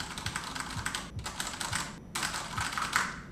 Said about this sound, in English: using this keyboard is just so fun, and it's just fun to type on